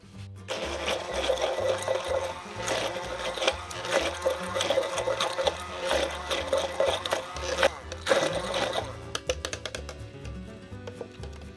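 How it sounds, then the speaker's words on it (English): A blender purees pumpkin with olive oil for a pizza base: a steady, loud motor whir that runs unbroken, with a faint rhythmic churn, for about eleven seconds. "And then we're just going to blend it."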